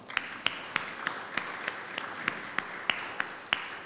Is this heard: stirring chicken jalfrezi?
no